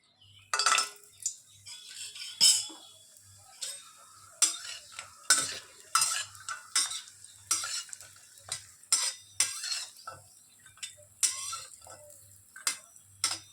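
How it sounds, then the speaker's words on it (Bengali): Bori, Bengali lentil dumplings, frying in a pan for a drumstick curry, with repeated scraping and stirring clatters over a soft sizzle, near and fairly loud, no talking. "তো আমরা প্রথমে যেটা করে নেব সেটা হচ্ছে বড়িটা ভেজে নেব"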